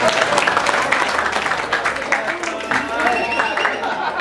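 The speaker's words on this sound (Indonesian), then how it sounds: "Tepuk tangan." Applause from an audience at a parish altar-server committee election, dense continuous clapping filling the room with some voices mixed in throughout.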